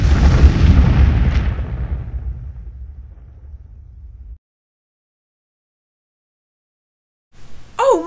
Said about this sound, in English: You're going to create an explosion.